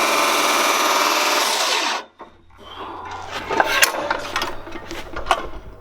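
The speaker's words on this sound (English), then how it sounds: "That's a huge saw." Large power saw grinding through wood while finishing garage posts, a loud rough buzzing cut that stops abruptly, followed by scattered knocks, scrapes and handling noises.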